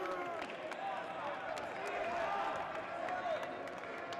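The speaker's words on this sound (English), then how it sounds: "here's the crowd I keep on talking about" JMU home crowd cheering after a goal at a college soccer match: a steady, dense roar of voices and clapping carries throughout, with scattered sharper claps and shouts rising out of the wash.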